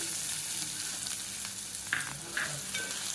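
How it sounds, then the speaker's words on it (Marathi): Finely chopped onion fries in hot oil, a steady close sizzle with a few brief stirring clinks and scrapes over about three seconds, no talking. "आता आपलं तेल गरम झालेलं आहे, तर त्याच्यामध्ये आपण हा कांदा ऍड करणार आहोत, बारीक चिरलेला कांदा आहे।"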